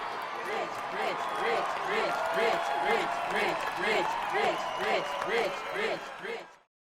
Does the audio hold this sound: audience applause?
yes